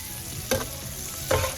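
Dry sausage fries in a pan with black olives and peppers, giving a continuous sizzle with two brief bursts of louder crackling as the pieces are stirred.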